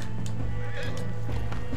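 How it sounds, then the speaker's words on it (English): A horse in the open-world western game Red Dead Redemption 2 gives a loud, close neigh over hoof clip-clops and game ambience. "Oh man, my horse, please get up."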